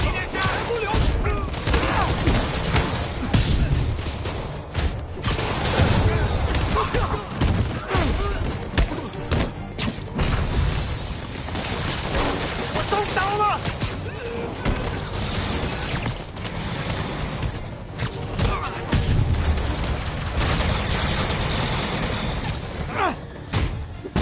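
Explosions and crashing debris burst repeatedly in Marvel's Spider-Man game as bombs hit the city, loud booms and shattering thuds piling up amid game noise, with voices speaking intermittently over the din.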